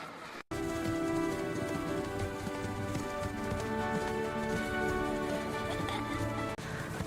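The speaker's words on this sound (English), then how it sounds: "My horse is also running fast." Horse hooves clip-clop steadily and continuously under a dense, loud wash of background music, close and even throughout, with no talking.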